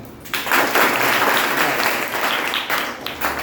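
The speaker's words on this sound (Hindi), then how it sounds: "एक बार जोरदार तालियां" Students in a classroom clap together loudly, a lively burst of close applause lasting a few seconds that tapers off near the end.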